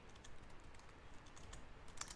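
Quiet computer-keyboard typing, a soft continuous patter of keystrokes with a sharper click near the end, heard faintly at low level.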